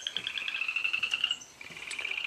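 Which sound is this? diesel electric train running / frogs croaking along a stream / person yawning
frogs croaking along a stream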